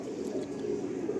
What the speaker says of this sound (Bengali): এই হচ্ছে আর একটা মেল পায়রা